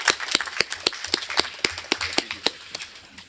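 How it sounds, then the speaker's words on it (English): Sparse applause from a conference audience at a multilateralism forum, with distinct, fairly close individual claps in an uneven rhythm that thin out and fade over a few seconds. "may I invite you to give a round of applause to Professor as he leaves"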